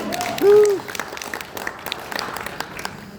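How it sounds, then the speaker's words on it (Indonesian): A church congregation applauds for God, a brief burst of scattered clapping in a large room, with a short tonal whine early and voices murmuring underneath. "Tepuk tangan buat Tuhan"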